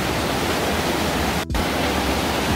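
Heavy water pouring down inside Hwanseon Cave, a loud, steady broadband rush that fills the space without a break, apart from one brief dropout midway.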